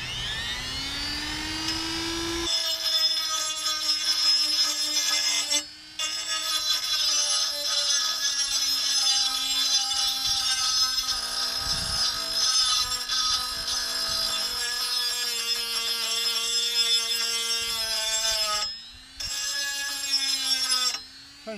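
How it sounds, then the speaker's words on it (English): A Dremel rotary tool whines at high pitch as it grinds an edge onto a clamped John Deere D105 mower blade, running steadily with two brief dips where the grinding pauses, and no talking. "I have a little Dremel here that I'm going to use."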